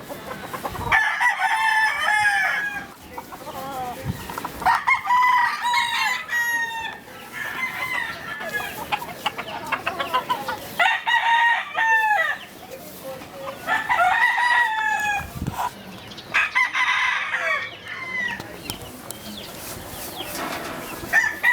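Roosters crow repeatedly, each call rising and falling, with chickens clucking in between; a voice speaks briefly now and then.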